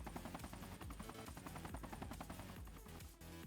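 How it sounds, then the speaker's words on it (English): A helicopter in the Sonic Generations video game gives a loud, steady rhythmic chopping whir that runs the whole time, blended with busy game music. "And catch the helicopter."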